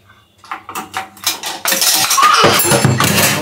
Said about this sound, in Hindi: अब इस प्रेशर कुकर का ढक्कन,